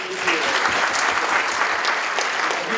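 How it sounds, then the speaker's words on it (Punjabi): Conference audience applauding a welcomed guest at an annual peace conference breakfast, a steady, dense wash of many hands clapping that fills the room at even loudness throughout. "ਤਾੜੀਆਂ ਮਾਰ ਕੇ ਉਹਨਾਂ ਦਾ ਸਵਾਗਤ ਕਰ ਦਿਓ"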